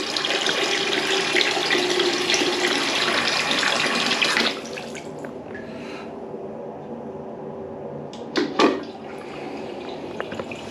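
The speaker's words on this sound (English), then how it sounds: "whenever you test it, always fill the basin right up" Tap water runs hard into a basin being filled for a plumbing leak test, a loud steady gush that stops about halfway through, followed by quiet drips and brief handling sounds.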